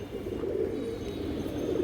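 Pigeons of old local breeds coo in a continuous low, throaty drone. The birds are near, with a steady level and no voices.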